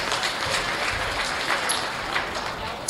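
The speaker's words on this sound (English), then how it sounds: "let's give these class winners a big round of applause" An audience at a youth livestock expo market gilt show applauds the class winners, a steady wash of clapping from a crowd filling the hall, with a voice speaking faintly over it.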